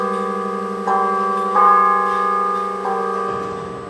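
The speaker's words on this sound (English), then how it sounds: "The bells are arranged to the upper and lower belfries to produce beautiful sound." Carillon bells in the Peace Tower belfries ring with sustained, shimmering tones, several strikes layering and decaying slowly, loud and resonant with no voices.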